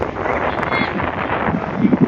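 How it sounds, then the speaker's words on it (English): Strong wind at an outdoor football game buffets the microphone in a continuous rumbling rush, with faint low sounds that may be distant voices. "so it's also very windy, if you can hear"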